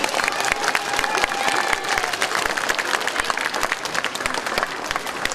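An elementary school morning assembly crowd breaks into sustained applause for a student teacher, a dense, steady wash of many hands clapping close by, with a few cheers mixed in.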